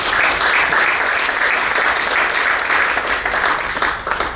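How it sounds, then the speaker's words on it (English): Banquet guests at a 1971 golden batch college reunion give Father Rector a round of applause, a sustained, fairly loud wash of many hands clapping without a break. "Please welcome him with a round of applause, please."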